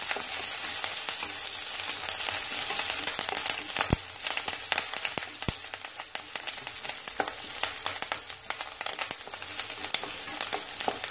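Drumstick flowers and curry leaves sautéing in a pan, a steady close sizzle and crackle with sharp pops and spatters throughout, no voices.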